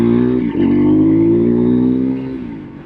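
A Husqvarna Svartpilen 401 motorcycle engine accelerates hard and close, with a loud, rising, buzzy drone that holds high through a gear shift before easing off at the end.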